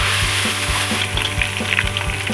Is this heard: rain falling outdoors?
no